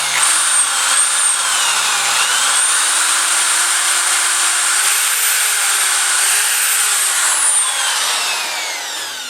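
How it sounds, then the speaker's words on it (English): A power drill bores a starter hole into a wooden table leg, a loud sustained whine with shifting pitch as the motor loads and eases, tapering off at the end. "you're going to make a starter hole so you don't split the wood"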